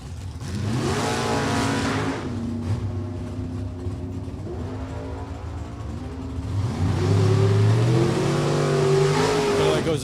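A 2002 Camaro and a 1977 Camaro roar off the line at New England Dragway, engines revving hard and climbing through gears, loud and continuous with a sustained roar near the end.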